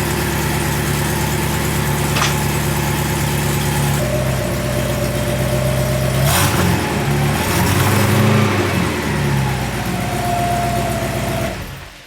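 A Porsche 928 V8 engine running after repair work, idling steadily close by with a couple of revs in the middle before shutting off at the end.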